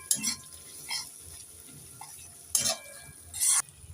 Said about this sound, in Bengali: এবার দিয়ে দেব কেটে রাখা টমেটো একটু নেড়ে চেড়ে দিয়ে দেব